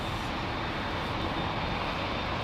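A Boeing 787 Dreamliner at Heathrow roars past as a broad, steady jet rumble that fills the air without pause.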